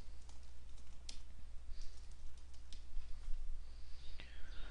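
Keys tapped on a computer keyboard while logging in to an account, a soft run of irregular clicks over a low steady hum.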